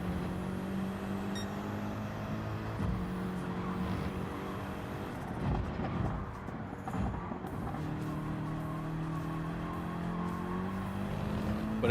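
A race car in Gran Turismo 7 holds a continuous loud engine drone with shifting pitch, gear changes and tire squeal, heard from an in-car view with no talking.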